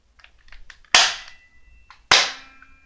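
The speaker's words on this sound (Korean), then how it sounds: "자, 그럼 얘부터 한번 쏴볼게요." A BB gun, an airsoft pistol, fires two sharp snapping shots about a second apart, each with a brief bright crack and quick decay, preceded by soft clicks and handling sounds.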